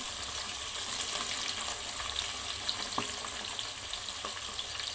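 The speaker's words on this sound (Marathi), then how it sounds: "हे तेजपत्ता आणि हे सर्व खडे मसाले ह्याला परतून घेते मी" Bay leaf and whole spices sauté in hot oil in a pan, giving a steady, close sizzle and crackle with a few soft stirring clicks and no talking.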